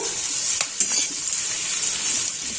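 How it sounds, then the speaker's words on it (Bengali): Sliced onion sizzles in hot oil in a pan, loud and close, while a spatula scrapes and clinks against the metal in a few quick stirring strokes. "পেঁয়াজটা ভাজা হয়ে গেছে"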